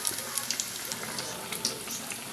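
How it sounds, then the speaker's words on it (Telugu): Garelu made from idli batter deep-fry in hot oil, a close, bright bubbling sizzle with small crackling pops throughout the short stretch. "ఇలా తిప్పుకుంటూ ఎర్రగా వేయించుకోవాలి"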